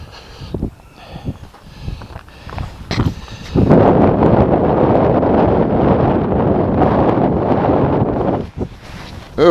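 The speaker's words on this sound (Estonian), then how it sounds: "Õudne tuul on küll." Strong wind roars across a mountain summit near Kilpisjärvi, a dense, loud buffeting rush that batters the microphone for several seconds, with softer gusts before and after.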